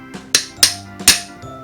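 A toy hammer strikes a Melissa & Doug pounding table four times in quick succession, close and sharp, each knock a bright wooden clack with a short ring-off, no voices.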